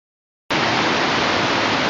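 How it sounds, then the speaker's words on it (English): Water pours steadily over an old spillway of a former impoundment, a dense broadband rushing roar that starts abruptly and holds at constant loudness nearby. "here's the spillway of what was once an impoundment"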